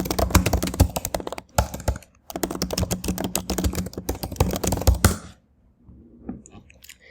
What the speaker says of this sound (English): So let me quickly type in the question here.